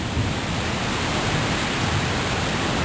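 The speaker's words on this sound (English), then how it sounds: "Oh, it's raining!" Steady rain pours down during a thunderstorm as heard from a porch, a dense, even hiss filling the whole stretch with no other sounds standing out.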